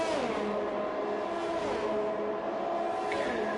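GP2 race cars in a PS5 racing game roar past with a sustained high-pitched engine whine and shifting revs, loud and continuous with no voices.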